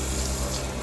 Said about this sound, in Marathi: आता हा पालक आपण थंड पाण्याखाली धुवून घेऊया एकदा परत.